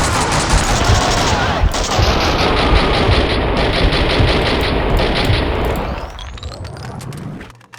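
Max Payne 2 video game gunfire rattles in a dense, loud burst of rapid automatic shots that runs for about six seconds and then cuts off, leaving a fading tail and a lone final shot.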